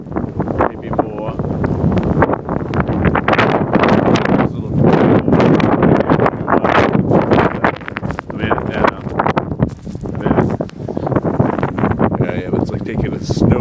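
Strong blizzard wind in Sanford, Maine, gusting hard enough to clear snow off a sidewalk, roars and buffets the microphone in loud, uneven surges for the whole stretch.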